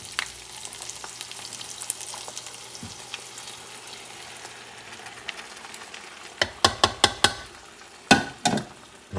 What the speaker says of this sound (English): I'm just going to let them cook for a little bit